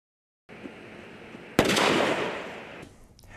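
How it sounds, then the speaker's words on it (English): Consumer fireworks explode: a sharp, loud crack hits partway through, then a dense crackling, sizzling burst trails off over about a second before quieting. "Each summer, thousands of people are injured using consumer fireworks."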